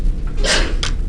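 A single sneeze bursts out in a quiet room, one short sharp breathy blast with a quick intake before it, fairly close and loud.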